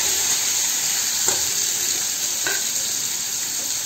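Chopped onion frying in oil with cumin gives a steady, close hiss and sizzle throughout, with a couple of faint stirring scrapes.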